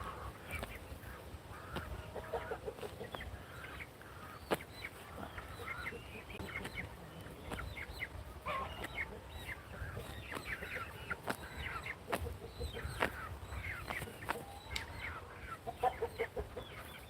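Brahma and Easter Egger chickens, including roosters, on a farm, clucking and calling in scattered bursts with soft sharp peaks over a low outdoor background for about seventeen seconds.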